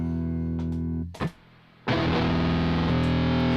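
Distorted electric guitar tones played through effects pedals, a sustained fuzzy chord that cuts off briefly, then a loud thick distorted chord rings out again.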